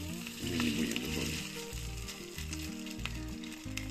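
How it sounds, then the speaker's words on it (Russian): Fish cutlets made from canned fish and raw egg fry in a pan over medium heat, giving a steady, close sizzle that runs the whole time with a low tonal hum underneath. "на среднем огне жарим"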